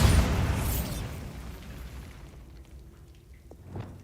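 The Bombarda spell in Hogwarts Legacy sets off a loud, booming blast that hits at once and fades into a rumbling, crackling decay, followed by faint scattered debris sounds.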